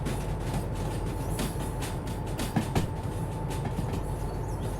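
A long heavy freight train rolls through a yard in the video game Derail Valley, a steady rumble with rhythmic clicking wheel knocks and a couple of louder clunks, continuous and fairly close, with no talk.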